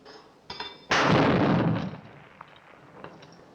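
A rocket gun fires from the Bond film You Only Live Twice, a sharp click followed by a loud, close whooshing blast that roars for about a second and then fades into a tail.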